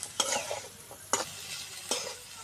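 Chicken pieces and chopped potato frying in oil, with several sharp stirring scrapes spaced through a steady soft background sizzle, close and fairly quiet.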